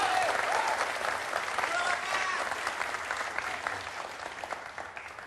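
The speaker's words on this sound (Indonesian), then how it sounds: "Tepuk tangan dong." Studio audience at a televised presidential debate breaks into sustained applause, dense clapping from a large crowd that stays loud throughout and eases slightly toward the end, with voices faintly mixed underneath.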